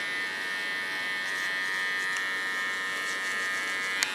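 An electric hair clipper set to a 1 millimetre blade trims close around an ear, buzzing steadily and close up with a faint higher whine and light snips near the end.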